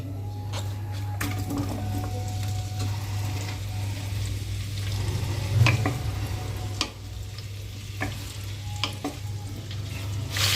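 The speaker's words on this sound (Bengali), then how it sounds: "3টে ক্যাপসিকাম সরু সাইজ করে কেটে রেখেছি, ভাজার জন্য দিয়ে দিচ্ছি।" Three thinly sliced capsicums fry in hot oil in a kadai, giving a steady close sizzle broken by the clink and scrape of stirring, with no talk.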